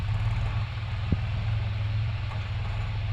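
A New Holland 3.5 Plus 50 hp tractor engine idles with a steady, close, low throbbing drone and a faint knock partway through.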